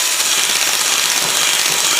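An angle grinder fitted with a double flap disc polishing metal on a U-joint job gives a loud, steady, close-up high whir that holds an even pitch throughout with no voices over it.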